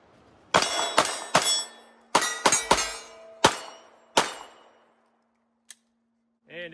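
A Ruger RXM pistol fitted with a Radiant Ramjet Afterburner kit fires eight sharp, loud shots in an uneven string, each crack trailing a short ring before a faint metallic clink and a lull.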